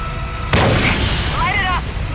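Gunfire in the video game Far Cry 5 as fuel tanks are shot, a sudden loud burst followed by a sustained roaring blast with a whining tone, close and forceful.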